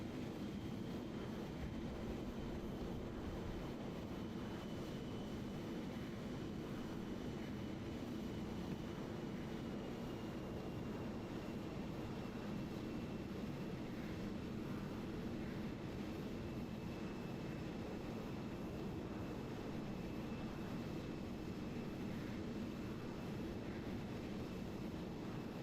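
Steady, continuous drone of an aircraft engine in a flight simulator game running on a Series X, a broad even rumble with a faint high tone holding throughout, no talk.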